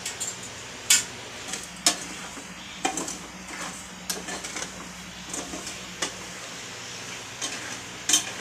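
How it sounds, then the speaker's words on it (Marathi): Vari (barnyard millet) dry-roasting in a pan, stirred with a utensil that gives sharp scrapes and taps about once a second over a low background, no voices. "वरी आपण भाजून घ्यायचे आता छानपैकी"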